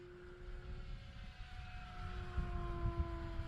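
An FMS ASW 17 RC glider makes a full-speed pass into the wind, a faint steady whine holding a high tone over rumbling wind noise that swells slightly toward the end.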